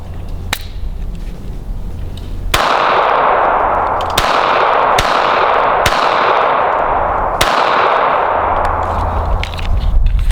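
Sharp gunshots from a tiny Smith & Wesson Bodyguard pistol, five loud cracks at irregular intervals, each ringing out into a long echoing decay, with a faint earlier pop near the start.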